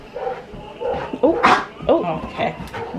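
A pet dog barks and yips in short, excited bursts, close and loud, several sharp calls in quick succession, with people talking indoors around it.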